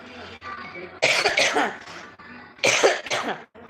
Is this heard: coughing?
yes